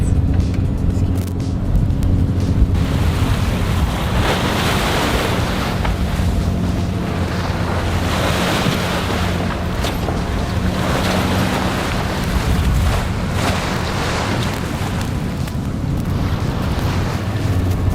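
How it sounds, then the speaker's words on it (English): Strong wind on the open ocean while a sailboat motors southeast near the Bahamas: continuous loud buffeting wind noise over a low engine drone and rushing water, with periodic gusts. "The wind was almost directly off our bow, so we were motoring down to the southeast."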